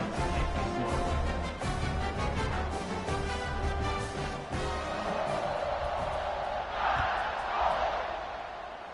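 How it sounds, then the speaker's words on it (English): A football stadium crowd roars continuously in the fourth quarter as the teams line up for a kickoff, the dense, loud cheering swelling further near the end, with a broadcast commentator's voice faintly layered in. "this crowd now ready to get behind them"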